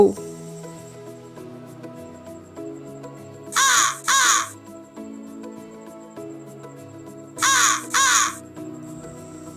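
Crow cawing in two short bursts of two harsh caws each, loud and close, set against a quiet background.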